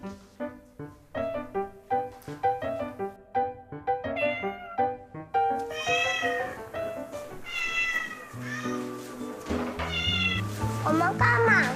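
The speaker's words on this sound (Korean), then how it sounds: "고양이는 이렇게 따뜻한 데 좋아해." A cat meows repeatedly in a warm indoor spot, a run of short rhythmic mews followed by longer, louder drawn-out cries, close and clear, with a voice and other talk mixed in toward the end.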